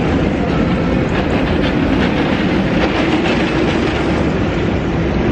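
A roller coaster at Fun Spot Orlando rattles along its track, a dense, loud, continuous clattering rumble heard from nearby without pause.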